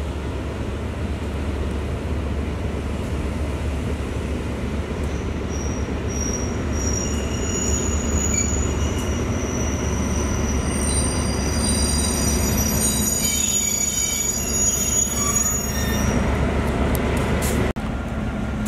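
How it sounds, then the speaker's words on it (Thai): GEA freight train locomotive no. 4528 pulling into Prachuap Khiri Khan station, a steady loud rumble of rolling wagons with high metallic wheel squeals and screeches rising over the continuous rail noise. "รถจักรทำขบวนเป็น GEA หมายเลข4528ครับ"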